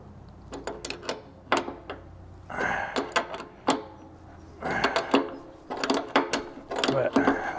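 A ratchet wrench tightens fasteners on a Freightliner FLD truck fuel tank, giving close, crisp clicking bursts in uneven runs with short pauses between them.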